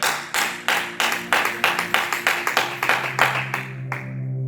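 A church congregation claps in acclamation, sharp close hand claps in a quick, uneven rhythm that thin out and stop near the end.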